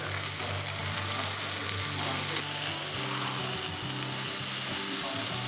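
Lamb meat sizzles steadily in a hot pan, a loud continuous frying hiss with a low mechanical hum underneath that shifts pitch partway through.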